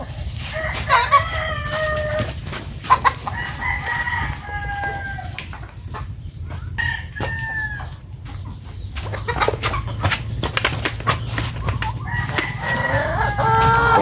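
Several chickens cluck and squawk close by, with scattered pecking taps and a steady low background hum.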